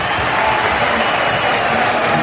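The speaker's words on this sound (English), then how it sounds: "Listen to the crowd now" Football stadium crowd at a Luton Town versus West Brom match applauding a counter-attack, a dense, loud, continuous wash of clapping and cheering that holds steady the whole time.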